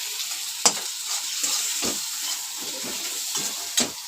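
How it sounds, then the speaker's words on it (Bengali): Chopped tomatoes fry in oil with salt while a spoon stirs them, a steady sizzle and hiss broken by several sharp scraping strokes against the pan. "এবার এর মধ্যে 2টো মিডিয়াম সাইজের টমেটো কেটে রেখেছি, এটা আমি দিয়ে দিলাম। এটা কিছুক্ষণ নাড়তে থাকবো।"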